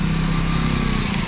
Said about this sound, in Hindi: अब अपना भाई बाइक लेके आ रहा है और अब हमारी अपाची निकल रही है बर्फ में से